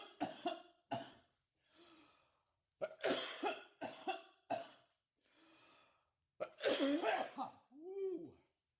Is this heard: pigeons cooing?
no